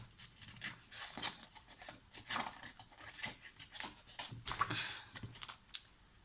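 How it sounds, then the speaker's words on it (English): Small scissors snip paper while fussy cutting tiny ice cream shapes for a scrapbook page, a close, quiet series of irregular crisp snips and rustles with short pauses between cuts. "I want to cut out, fussy cut out some little ice creams and things like that"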